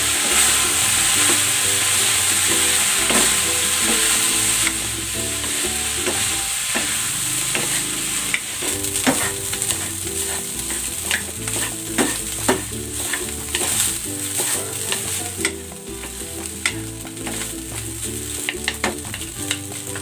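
Fajita rice stirred and fried in a pan with chicken, a steady close sizzle broken by repeated scraping stirs and clinks of the utensil, continuous with no talk.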